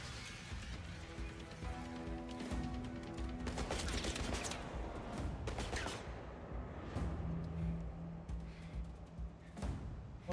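Gunfire from a James Bond video game, rapid bursts and single shots crackling loudly and steadily throughout amid game music and effects, with occasional voices.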